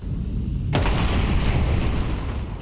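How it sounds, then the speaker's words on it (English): A grenade detonates in a Counter-Strike pro match, Falcons vs. Astralis: low rumbling game ambience breaks into a sudden loud blast whose broadband roar lingers for a couple of seconds. "The grenade lands right on top of Kixon."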